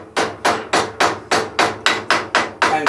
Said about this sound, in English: take your trusty hammer